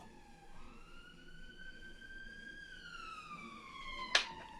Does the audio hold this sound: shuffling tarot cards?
no